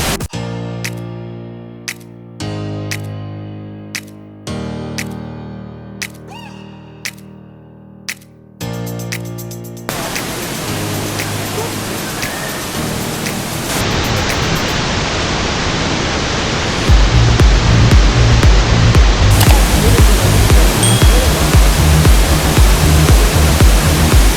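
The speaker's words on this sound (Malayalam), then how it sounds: "നല്ല ടോപ്പിൽ നിന്നാണ് വെള്ളം വന്ന് വീഴുന്നത്" Palaruvi waterfall in Kollam, Kerala, with water plunging from a great height: a loud, steady roar of falling water fills the second half, after an opening stretch of tonal music with sharp clicks.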